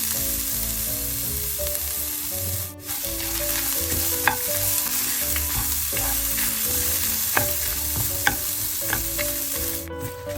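Red chillies and grated coconut roast in a pan with a little oil and asafoetida powder, giving a steady close sizzle throughout, broken by the scrape and clink of a stirring spoon.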